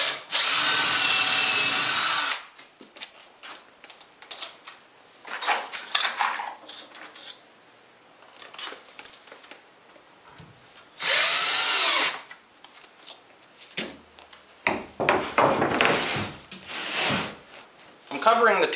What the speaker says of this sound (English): Now I'm just going to secure it with a couple 1¼ inch drywall screws until the glue dries.